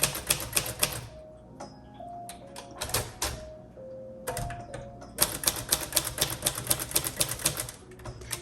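Typing on a 1939 Royal Aristocrat typewriter: bursts of rapid, crisp key strikes, a pause filled with short rising ratchety ticks, then another steady run of clacking, close up.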